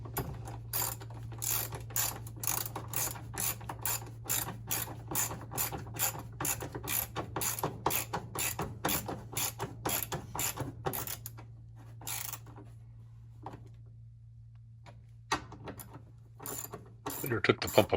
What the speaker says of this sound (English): And a third screw and drive it home.